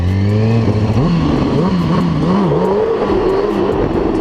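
Kawasaki 636 motorcycle engine held low during an idle wheelie, a loud close steady drone whose pitch wavers and dips slightly with gentle throttle and brake changes.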